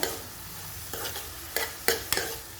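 A large chopped tomato is stirred into a pan for a spinach keerai masiyal, with several quick spatula scrapes and knocks over a soft, steady sizzle.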